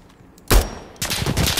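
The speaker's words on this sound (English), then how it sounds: "This gun just dispatches people." Rapid bursts of gunfire from a gun in Insurgency Sandstorm, a loud sharp crack followed half a second later by a sustained volley of close, overlapping shots.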